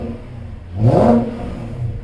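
A BMW E39 540i engine gives a single short rev that swells and falls away within about half a second, close and loud over a low idle.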